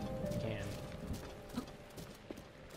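Horse hooves clip-clop steadily while riding in Zelda: Breath of the Wild, a quiet rhythmic trot under faint game ambience and light talk.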